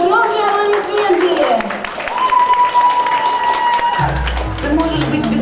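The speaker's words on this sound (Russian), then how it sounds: "Громкие аплодисменты!" Loud audience applause and cheering greet an exotic pole dancer stepping onto a stage, broad clapping filling the space throughout with music tones running beneath.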